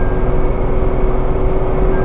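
A Tata Altroz 1.2L petrol hatchback drones loudly during high-speed acceleration, heard from inside the cabin. The engine holds a sustained, even roar with a steady tone and no voices.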